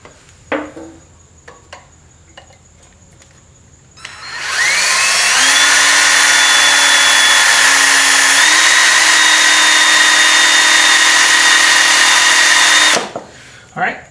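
A power drill bores out a broken dog leg bolt in the casting of a Farmall Cub tractor, whining loudly and steadily for about nine seconds with the pitch rising as it spins up, after brief handling clatter.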